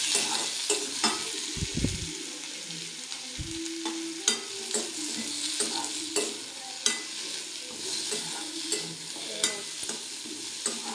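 Tomato and a little coconut sauté for a chicken gravy, the pan giving a constant sizzle under frequent spoon scrapes and knocks in a loose, repeating rhythm, with no talking.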